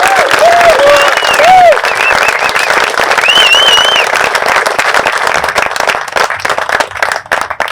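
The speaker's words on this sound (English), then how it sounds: "Please join me in a round of applause." A crowd applauds at a military retirement ceremony for a major general, the clapping dense and sustained throughout, with a few whistles and cheers riding over it before it thins slightly near the end.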